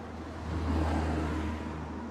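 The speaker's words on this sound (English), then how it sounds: "today every car in the world has gone past." A car drives past outside a house in a quiet residential area, a steady low engine rumble swelling gently near the middle of the pass and then easing off, with no talking.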